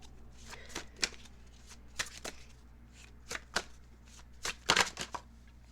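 Tarot cards shuffled by hand in a quiet room, a string of soft riffling bursts and quick flicks spaced irregularly, louder toward the end.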